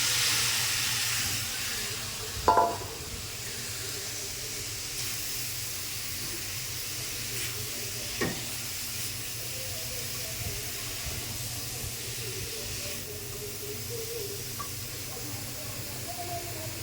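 Pumpkin pieces frying in a hot pan give a steady, soft hiss and sizzle that runs the whole time, with a couple of brief clinks near the start and middle and no talk over it.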